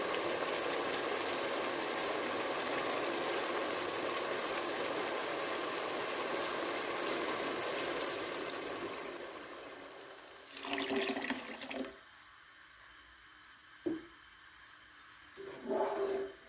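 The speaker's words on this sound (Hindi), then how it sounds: "इसमें हमने 4 गिलास पानी शामिल कर दिया है" Water is poured into a cooking pot for chana mewa pulao, a steady splashing gush for several seconds that fades out, followed by a few brief clinks and knocks of the pot nearby.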